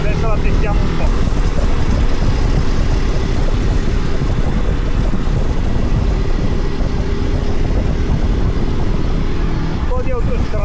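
An Italian rider's new rally motorcycle drones continuously and loudly with its engine and rushing wind, a steady roar close to the rider and no pause for about ten seconds.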